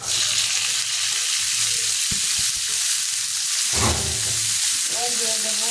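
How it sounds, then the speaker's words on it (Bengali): Yardlong beans hit hot oil with a bright sizzle, then keep frying under repeated stirring clatter in the pan, close and continuous. "এবার দিয়ে দেবো বরবটি।"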